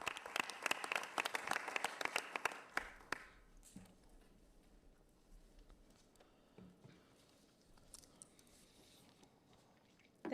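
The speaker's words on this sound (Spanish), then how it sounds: "Y vamos a darle un aplauso mientras ella llega aquí." Applause from the audience at a county board of commissioners meeting, brisk and fairly close for about three seconds before fading into scattered claps and room noise, with a short burst at the very end.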